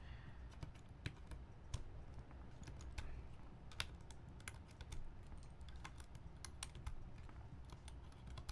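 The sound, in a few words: keycaps being pulled off a mechanical keyboard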